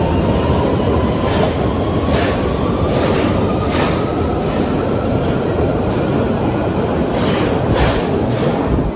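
A London Underground Central line tube train pulls into a station, a loud steady roar of wheels and rail noise filling the platform with a faint rising whine and brief squeals, no one speaking.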